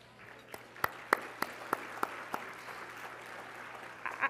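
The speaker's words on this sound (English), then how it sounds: "you may want to wait till the end to clap" Scattered claps ring out from a keynote audience, about eight separate, fairly sharp claps spaced evenly apart over a quiet room hum, followed by a brief swell of a few more claps at the end.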